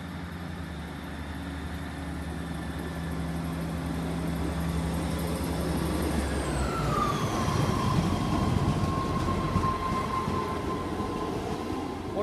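A Class 158 diesel multiple unit, number 158788, rumbles through Grantham station, its low engine drone giving way midway to a falling whine and rising wheel and rail noise as it moves off, steady and moderately close.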